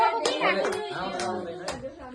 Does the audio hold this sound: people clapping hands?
yes